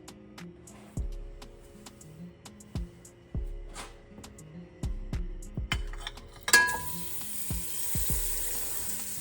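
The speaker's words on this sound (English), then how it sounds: "Now I'm going to saute my veggies. I'll be using butter as oil" Vegetables sauté in butter in a pan with a faint steady sizzle, broken by repeated utensil taps and clinks against the pan and a louder burst of frying near the end.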